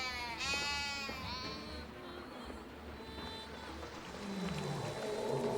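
A sheep in the 2015 video game FIVE: Guardians of David gives a few wavering bleats early on, close and clear over a quiet, low background.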